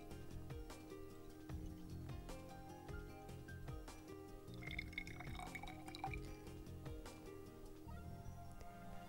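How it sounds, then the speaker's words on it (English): Distilled water poured into a glass test tube in a lab, a soft continuous trickle with small drips and glassy tinkles, faint under a steady background hum. "Take another test tube and add some distilled water to it."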